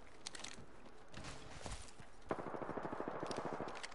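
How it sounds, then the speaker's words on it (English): Rapid gunfire rattles in Apex Legends ranked play, a quick burst of distant shots giving way to a steady run of closer automatic fire. "He's just shooting."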